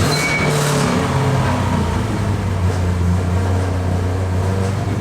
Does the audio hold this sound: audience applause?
no